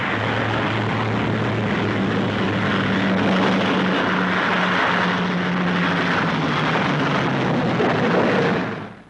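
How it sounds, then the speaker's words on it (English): A damaged B-29 Superfortress bomber landing at the Iwo Jima airbase, its propeller engines droning in a loud, steady, sustained roar with a slight wavering hum, fading out sharply at the end. "Trouble causes 50 of the superforts also to land on Iwo, and here one of them is being escorted into the base."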